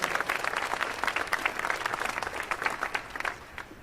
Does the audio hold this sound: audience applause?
yes